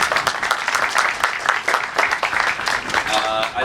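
Applause rings out for HUD representatives at a groundbreaking ceremony, a steady crowd of clapping hands sustained throughout, with a speaking voice faintly mixed in.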